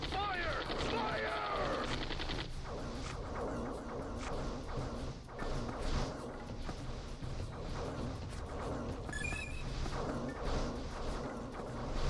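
Earth Defense Force 2 game combat, dense continuous automatic gunfire with crashes and impacts, layered under game music and someone talking.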